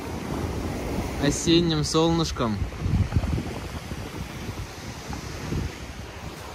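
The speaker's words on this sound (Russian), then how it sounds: "Морешко прозрачное. Немножко волнуется." Black Sea waves washing onto the shore in Sochi on a mildly choppy day, a steady surf wash under gusty wind noise on the microphone, with a brief stretch of a person talking early on.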